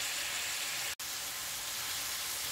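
Shrimp frying in a pan for shrimp fried rice, a steady close hiss and sizzle of hot oil that carries on without a break apart from one sudden, momentary dropout.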